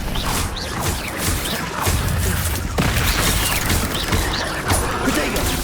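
Spellcasting combat in Hogwarts Legacy: a disarming charm fires amid a dense, continuous barrage of magical blasts, whooshes and crashing impacts, loud and busy throughout with a sharp burst near the three-second mark.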